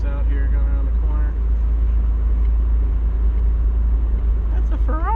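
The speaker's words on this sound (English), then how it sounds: "These, even in a V6, I have no throttle, and it's just giving me that nice little hum." A 1985 Pontiac Fiero SE with a V6 engine hums steadily while driving off throttle, a constant low drone inside the cabin with a few faint voices passing over it.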